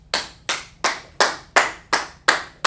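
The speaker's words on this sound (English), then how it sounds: "Clap for our brother" A small group claps for a fellow member during a language lesson: seven slow, evenly spaced claps in unison, crisp and close, with no talking.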